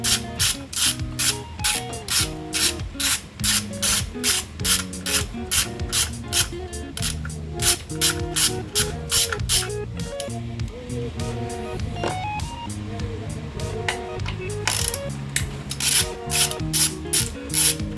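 A hand ratchet clicks in rapid, regular bursts while loosening the spark plug bolts on a Nissan Serena C24 engine, the sharp pawl ticks close and distinct, pausing briefly between strokes.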